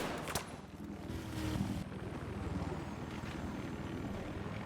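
Scout helicopter rotor and engine drone during a Battlefield 4 conquest match, a steady continuous whir with rising and falling intensity amid game noise.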